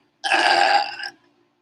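A single loud, close burp lasting about a second, rising abruptly and then trailing off into silence.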